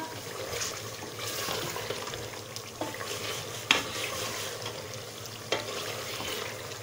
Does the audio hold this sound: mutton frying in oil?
yes